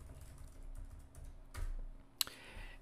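Someone types an email address on a computer keyboard, with faint, rapid key clicks close by, a low background hum and one sharp louder tap near the end.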